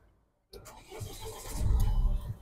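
A 2017 Mahindra XUV500 W6 diesel SUV, in perfect condition, cranks and fires on a single self-start after a brief silence, its engine quickly settling into a loud, close, rumbling run.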